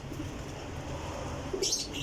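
High-quality pigeon in a loft giving a short coo and a brief chirpy call near the end, faint over a low steady background.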